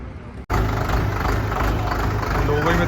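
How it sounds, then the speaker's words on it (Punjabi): The heavy diesel engine of an Indofarm 3055DI tractor starts up abruptly and keeps running with a steady, loud rumble close by. "ਟਰੈਕਟਰ ਦੀ ਆਵਾਜ਼ 'ਚ ਕਿੰਨਾ ਫਰਕ ਪਾਇਆ"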